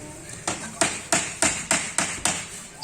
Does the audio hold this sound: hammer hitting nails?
yes